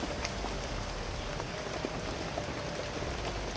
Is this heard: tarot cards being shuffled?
no